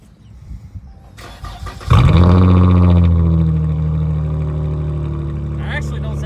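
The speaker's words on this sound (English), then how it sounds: "Get a little cold start on this, see what it would sound like." A car engine with deleted mufflers cold starting: quiet rustling, then a cranking whir and a sudden loud bark that settles into a rough, deep, steady idle, close and very loud, with voices heard near the start.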